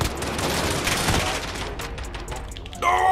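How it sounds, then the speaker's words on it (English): Pistol fire in Call of Duty: Modern Warfare comes as loud rapid shots and cracks layered with other gunfire in a busy game battle, with a brief bright tone near the end. "I don't know what I'm doing trying to shoot somebody with a pistol"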